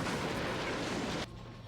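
A rocket launcher explosion in the Marvel Ultimate Alliance video game: a broad, loud roaring blast that holds for about a second and then cuts off sharply into quieter game ambience.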